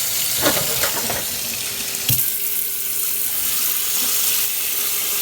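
Water runs steadily into the tub of a Sky twin tub washing machine during a test run, a continuous hissing rush with a few brief knocks and splashes, close and alone without talk.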